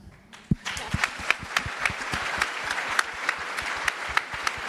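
A crowd at a pro-choice rally in New York City applauds steadily, dense clapping filling the space with a few louder individual claps standing out, fairly close.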